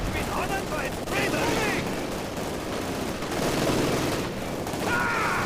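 Light machine gun fire from German Wehrmacht Grenadiers in a Company of Heroes 2 online 3v3 battle against Soviets: dense, continuous rattling bursts with overlapping shots and distant booms in a constant battlefield din.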